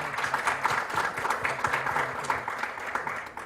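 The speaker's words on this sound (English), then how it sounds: "Can we have a big round of applause for him" An audience at a conference inaugural in New Delhi applauds the chief guest as he takes his seat on the dais, steady sustained clapping in a hall with a faint voice underneath.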